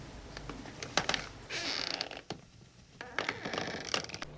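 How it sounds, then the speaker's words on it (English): Woody creaks and groans come in irregular bursts with rustling between them, like branches straining in a gust. No voices are heard. "trees and brambles which twisted along the mouth and creaked as if they were alive with a sudden gust of wind"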